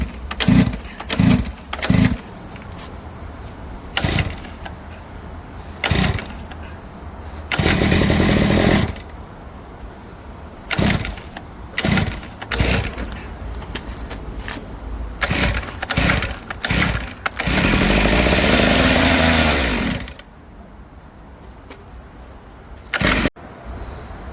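A two-stroke mini motorbike engine sputters and almost starts again and again, loud raspy bursts of a few seconds each, separated by pauses, with no talk.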